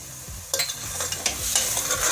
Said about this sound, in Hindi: एक मिनट चलाएंगे।